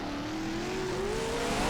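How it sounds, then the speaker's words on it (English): Dirt late model race car doing a burnout on a dirt track, a loud continuous engine roar with a rising pitch over about two seconds, close and unbroken, no voices. "Good burnout here for that car."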